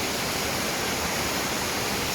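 Catholes waterfall in Mayo, Ireland, on a freezing day, a steady broadband rush of falling water filling the air without pause, close and fairly loud.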